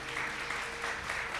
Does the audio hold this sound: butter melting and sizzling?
no